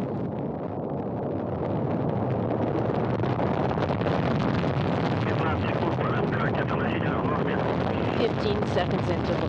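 A rocket roars at liftoff on its way to the International Space Station, a loud, continuous broadband rumble that keeps up without a break while a voice talks over it.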